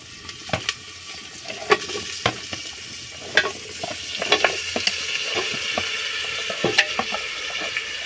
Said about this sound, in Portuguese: Agora eu vou colocar a panelada.